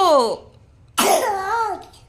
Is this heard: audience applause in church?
no